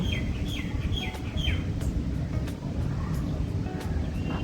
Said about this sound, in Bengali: শোনা যায় শুধু পাখির ডাক আর বাতাসের শব্দ।